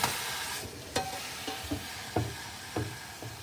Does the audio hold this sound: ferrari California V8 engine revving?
no